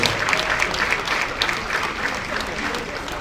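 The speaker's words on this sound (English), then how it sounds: "Please, they deserve a very big applause." A steady wash of crowd applause at a surveyors' association launch event, dense and sustained clapping filling the whole stretch at a fairly loud level.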